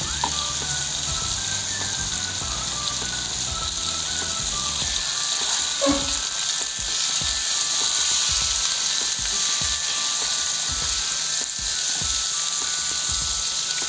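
Chickpeas and chicken sizzle steadily in a hot frying pan, a dense continuous crackle with occasional stirring scrapes, close and alone without talk.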